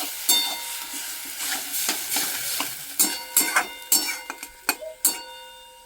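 Potatoes and chilies fry in a pan just after water goes in, as a spatula scrapes and taps in uneven bursts over a soft background sizzle.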